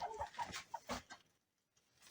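Hens cluck in a short, close burst of soft, rapid calls in a backyard, and the sound fades to near silence after about a second.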